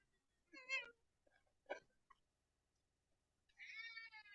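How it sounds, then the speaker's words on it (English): A few separate cat meows, fairly close, with quiet gaps between them and a longer, drawn-out meow near the end. "Do y'all hear those meows?"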